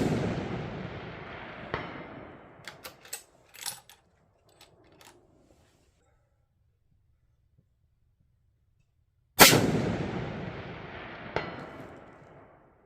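Rifle shots fired at a target 500 yards away through a budget 6-24x50 scope, two loud sharp reports several seconds apart, each with a long decaying outdoor echo, and light handling clicks between them.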